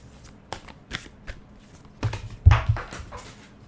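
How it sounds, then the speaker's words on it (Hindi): Tarot cards are gathered up and shuffled by hand in a quiet room, making a series of soft riffling and tapping bursts that grow denser and louder toward the end, with no speech. "कुछ कार्ड्स नीचे गिर गए थे तो मैंने ले लिए हैं"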